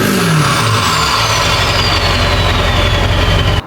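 Turbo whistle from a truck fitted with a 3-inch straight pipe, a loud rising whine riding over a heavy, steady engine rumble that runs continuously before cutting off abruptly at the end.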